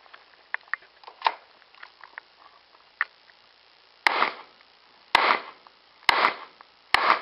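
A HiPoint 4595 pistol fires during a magazine test: four loud, sharp shots at roughly one-second intervals, each with a short echoing tail, after several fainter pops and clicks.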